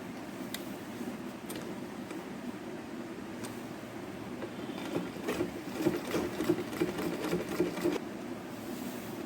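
A sewing machine stitches a silk pattu pavadai in a quiet room, a soft low whirring that runs steadily and grows busier and louder midway, with a faint rapid needle patter near the end.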